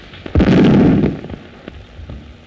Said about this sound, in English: But what were those explosions? Shells, my dear.